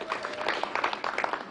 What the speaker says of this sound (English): You can see even you are clapping more